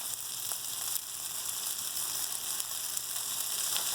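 Fresh basil sautéed briefly in a pan for garden zucchini pasta gives a soft, even sizzle, fairly quiet and unbroken, with a few faint ticks of stirring.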